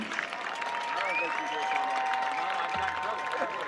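A crowd applauds and cheers for a high school marching band at a football game, sustained clapping filling the space with a steady tone ringing above it, likely a band or PA note.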